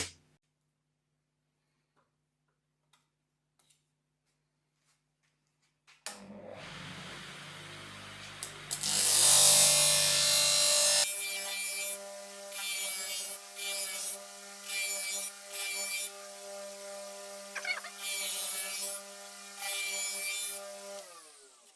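A knife sharpening machine whirs up, then a knife blade grinds against a spinning water-fed wheel in steady repeated passes, harsh and loud, with brief pauses between strokes.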